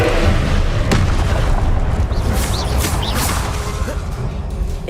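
A Confringo blast spell in Hogwarts Legacy detonates with a loud, rumbling boom and explosive whoosh, sustained heavy low-end roar throughout.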